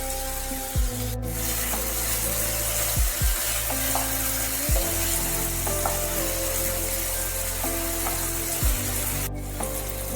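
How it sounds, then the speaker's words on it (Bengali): Cut potatoes sizzling in well-heated oil in a frying pan, a steady close crackling hiss with a few scraping stirs and clinks, no voices. "তেল ভালোভাবে গরম হয়ে গেলে কেটে রাখা আলু দিয়ে দিচ্ছি"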